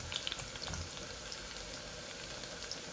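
Ground spices frying in hot oil for tempering, a soft steady sizzle with faint crackles and a few small pops near the start, low and close.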